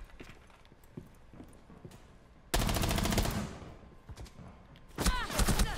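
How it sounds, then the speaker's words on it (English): Gunfire in the Rainbow Six shooter game: scattered light clicks and footsteps, then a loud sustained burst of automatic fire, a lull, and another heavy volley near the end. "he started shooting before the corner"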